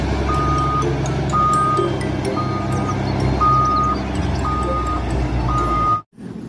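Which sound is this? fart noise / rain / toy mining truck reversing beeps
toy mining truck reversing beeps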